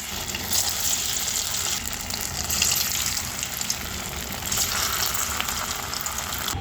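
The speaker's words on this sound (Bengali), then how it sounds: "তেলটা গরম করতে দিয়েছি, এবার ভেজে নেব।" Continuous loud sizzling and bubbling of paneer frying in hot oil, steady throughout with no voices.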